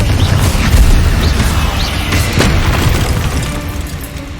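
Confringo spell blasts in the Hogwarts Legacy video game boom heavily over a loud, dense rumble of game combat, with a few sharper bursts rising out of the roar.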